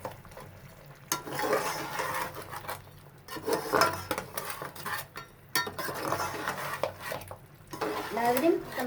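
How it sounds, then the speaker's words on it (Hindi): Ground spices, red chilli powder and turmeric are mixed in a pan, giving soft scraping and stirring with intermittent clinks of a utensil against metal. The strokes come in uneven bursts at a moderate level. "अब इन मसालों को हम मिक्स करेंगे।"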